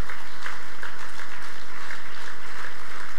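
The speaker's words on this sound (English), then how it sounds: "so we can give a round of applause to the" Loud, dense applause from a conference audience at a 2018 international ports gathering in Abuja, steady and sustained throughout with no pauses.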